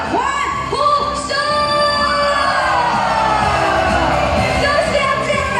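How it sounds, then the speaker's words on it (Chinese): A crowd at a year-end company party with a prize draw cheers and whoops in a sustained, loud roar of many voices, with no single speaker standing out over the noise. "全场的朋友，还没有中奖的朋友，先给自己一个欢呼声"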